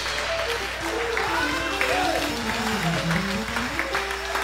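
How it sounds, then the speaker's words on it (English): Church congregation at an Easter service applauds in praise, a dense, continuous roar of clapping filling the room while a preacher's voice and crowd voices carry on over it. "That ought to put some clapping in your hand."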